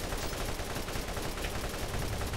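Dense, continuous gunfire rattles through a Borderlands DLC battle in the video game, sustained rapid shots at steady loudness with no pause.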